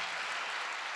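Dense, steady clapping from an audience at a live poetry and folk music event, a broad continuous wash of applause filling the whole second with no talk over it.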